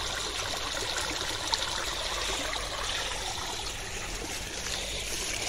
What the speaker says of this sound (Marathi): आवाज येत असेल तुम्हाला खल खल खल खल, कारण की पाटाचं पाणी नाही इकडे पर्याला येत आहे बघा